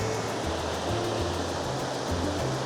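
Steady roar of a waterfall near Sapphire Lakes in the Kokanee Glacier backcountry, continuous broadband rushing water close by, no pauses or voices.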